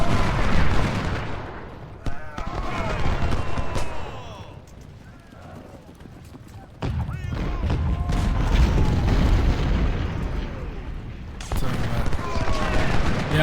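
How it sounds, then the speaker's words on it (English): Scattered rifle volleys crackle between skirmish lines in the Ultimate General: Civil War strategy game, with bursts of gunfire and booms rising and fading, a quieter lull midway, and a voice talking over much of it. "Skirmishers exchanging fire."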